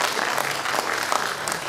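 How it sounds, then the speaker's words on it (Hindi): Applause from an audience at a celebration event in Hyderabad, dense continuous clapping that holds steady for a couple of seconds at fairly close range, with no speech over it. "ताली बजा के नाम लीजिए सर।"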